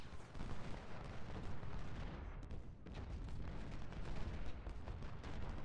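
Ironclad ships bombard shore artillery batteries in the Ultimate General: Civil War strategy game, a continuous rumbling roar of cannon fire and distant blasts with a brief dip midway.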